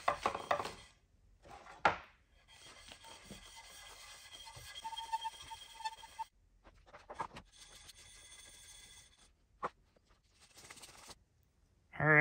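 A chisel back is scrubbed flat on 3000 grit sandpaper, giving irregular gritty rubbing strokes that are fairly quiet, with brief pauses and a few sharper scrapes.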